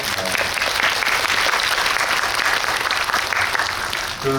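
Sustained audience applause fills a Korean film talk event for the movie Confidential Assignment 2: International, steady and dense from start to finish with no talk.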